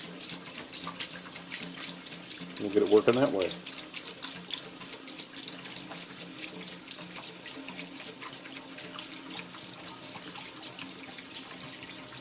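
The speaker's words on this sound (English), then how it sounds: "I'll put some jugs of water down in it and raise the level." Water is poured from jugs into a parts washer tank in a repair garage, a brief gushing splash under a voice against a quiet background hum.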